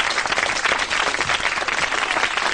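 Loud, dense applause from a live family audience greeting the puppet Scampy at a Sooty stage show, continuous many-handed clapping close to the mics with no pause.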